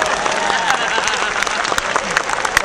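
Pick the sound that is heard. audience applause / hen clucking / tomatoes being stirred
audience applause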